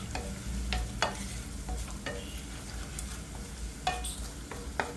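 Fennel powder and other spices fry in a pan for a Kerala-style green peas and potato curry, giving a steady close sizzle broken by a few sharp spoon scrapes and taps as the mix is stirred.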